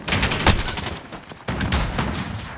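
Gunfire from the 7.25 shotgun in Modern Warfare comes as loud, close bursts of repeated blasts in two clusters, separated by a brief lull.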